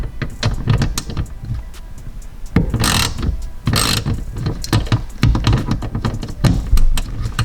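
A wrench working a tight 10 mm bolt on a 2017 Porsche 991.2 wiper mount, a loud, close run of rapid ratchet clicks in several bursts, broken by brief scraping and handling noises, with no talking.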